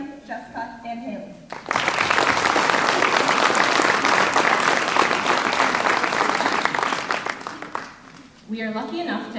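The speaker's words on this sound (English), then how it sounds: "Let's have another round of applause for Caitlin, Jessica, and Haley." An audience at a Miss Gibbon coronation breaks into sustained applause for several seconds, with talk before and after it.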